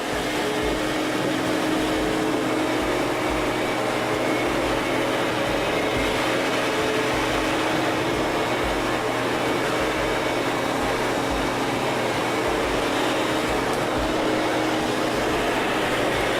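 A Sirena System water-filter vacuum cleaner runs over carpet, giving a loud, continuous motor whine and airflow roar that stays steady from start to finish with no voices.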